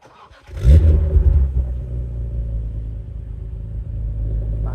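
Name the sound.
BMW E-series engine cold start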